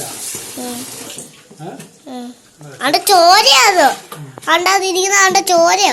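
Running water splashes while pieces of stingray fish are washed for a curry. Voices talk over it, and the water sound stays continuous beneath the speech.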